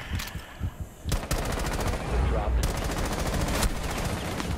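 Video game gunfire in rapid automatic bursts, loud and close, with sharp repeated shots broken by brief pauses and then sustained volleys. Faint voices come in under the shooting.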